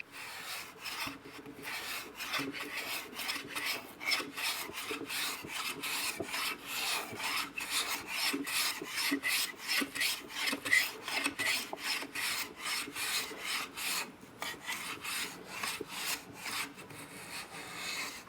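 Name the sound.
hand planing wood for a guitar neck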